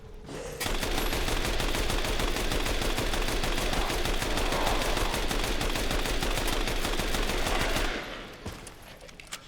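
Gunfire in Resident Evil 8 rings out as one loud, sustained rapid-fire burst of shots lasting about seven seconds, then cuts off to near quiet with a few faint trailing sounds.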